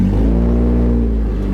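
A Honda-based El Camino body-swap project car with no brakes being driven, its engine giving a steady, close, low droning hum with no break and no talk.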